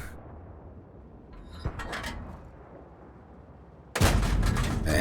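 Tank cannon fire from a Type 3 Chi Nu in a tank combat game: a sharp shot near 1.7 s, then a loud blast with a rumbling roar from about 4 s, over a low engine drone.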